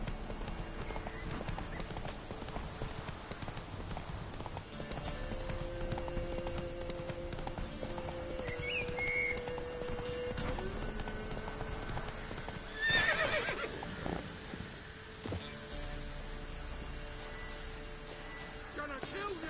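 Geralt's horse Roach galloping in The Witcher 3, steady rhythmic hoofbeats running throughout beneath music, with a brief whinny and a louder clattering burst partway through.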